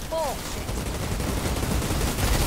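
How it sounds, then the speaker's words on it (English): Rapid, heavy shotgun blasts in the game Outriders, a dense continuous barrage of gunfire filling the whole stretch, loud and close with no pauses. "And why am I using a shotgun here?"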